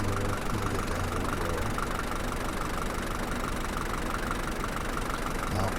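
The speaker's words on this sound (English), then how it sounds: "compared to the tractors, this truck is quick" A truck engine in the Farmers Dynasty video game runs steadily while driving, a loud continuous mid-to-low drone with a knocking texture that holds constant and close throughout, no talk over it.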